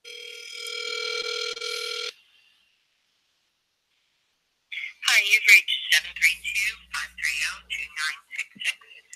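A telephone dial tone hums steadily for about two seconds while a call is placed to leave a voicemail, followed by silence and then a person talking.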